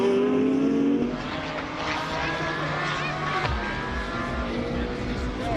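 Lamborghini and Porsche race cars lapping a circuit at a national extreme motorsport festival, their engines a continuous high-revving roar with shifting pitch as they pass, heard from trackside under a commentator talking.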